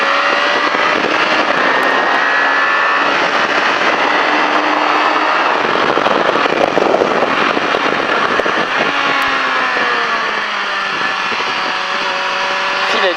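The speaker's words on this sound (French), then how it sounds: "je relève la moto et j'accélère" A motorcycle in a Duo Run stage at La Ferté Gaucher roars loudly and continuously, the engine pitch dipping and then climbing sharply as it accelerates out of a cone turn, heard up close.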